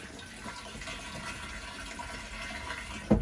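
Toilet in an Airstream BaseCamp trailer being flushed during dewinterizing, a faint steady rush of running water for about three seconds ending in a short louder clunk.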